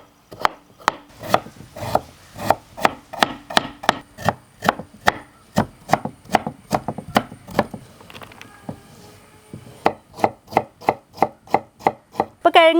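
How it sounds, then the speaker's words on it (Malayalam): Knife chopping peeled potato on a cutting board for a vegetable oats soup, a steady run of sharp, close taps in even rhythm with a brief pause midway before the chopping resumes. "ഇപ്പോൾ കിഴങ്ങ് അരിഞ്ഞ് കഴിഞ്ഞിട്ടുണ്ട്."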